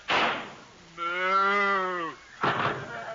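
A single loud, drawn-out cow moo, steady and harmonic for about a second, with brief noisy rustles before and after, in a classic Christmas radio comedy show.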